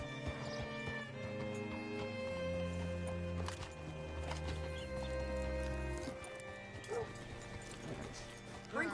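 Horse in the video game Red Dead Redemption 2, hooves clip-clopping with snorts and movement sounds under a steady bed of game music, lasting the full stretch at moderate loudness.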